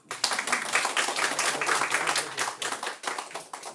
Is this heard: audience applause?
yes